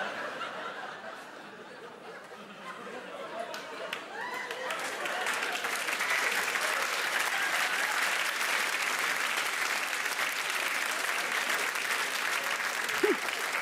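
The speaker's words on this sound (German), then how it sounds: "ihr seid wirklich die Ersten, die bei der Stelle geklatscht haben" A theatre audience at a comedy show on German food culture breaks into applause that swells from scattered claps into a full, sustained ovation mixed with chuckles and some speech, holding steady at a moderate distance.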